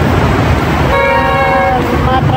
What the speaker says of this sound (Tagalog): Mga traffic-traffic na naman.